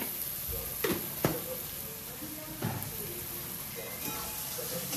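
Ginger garlic paste roasting in a kadhai over medium-low gas for paneer patiala, a soft continuous sizzle broken by a few sharp spatula scrapes and clicks, close and fairly quiet.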